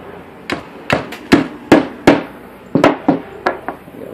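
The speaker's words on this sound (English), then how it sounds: "I'm going to lightly take a hammer here and kind of bang them back into" A hammer lightly tapping a warped metal mint tin back into shape on a wood block: about a dozen crisp, separate knocks in an irregular rhythm, close and loud, with no talk.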